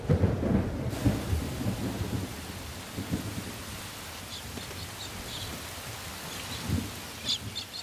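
Heavy rain hisses steadily with low rumbling thunder rolling beneath it, and a few faint bird chirps break through near the end.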